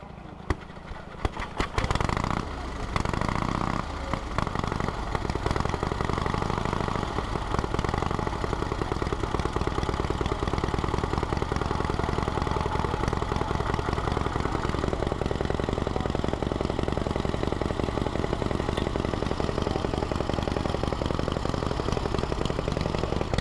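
Pre-1919 vintage motorcycles, a hand-cranked Enfield and a pedal-started Spacke, run during a rally, starting with a few sputtering pops before settling into a continuous, close, steady engine drone.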